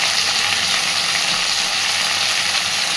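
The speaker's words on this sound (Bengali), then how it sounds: "এইবার দিয়ে দেবো 3-4টে কাঁচা লঙ্কা, আমি মাঝখান থেকে হাফ করে করে দিয়ে দিচ্ছি।" Green chillies, halved down the middle, dropped into hot oil in a pan for a vegetarian dish, giving a steady, dense sizzle that holds evenly and loud throughout with no talking.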